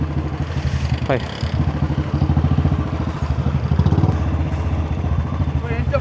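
Motorcycles idle and rev loudly at an auto expo and carnival, the engines chugging unevenly and close by, while a voice calls out a greeting.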